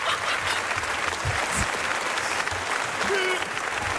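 A French TV show studio audience breaks into loud, sustained applause, a dense wash of clapping from many hands that holds steady throughout, with a few faint voices mixed in.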